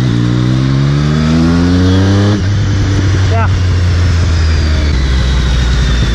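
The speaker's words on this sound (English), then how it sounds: "this has an Arrow exhaust, so the Arrow slip-on, which we get from the Triumph" Triumph motorcycle fitted with an Arrow slip-on exhaust, close and loud, the engine note rising under throttle, dropping sharply, then settling into a steady idle-like rumble.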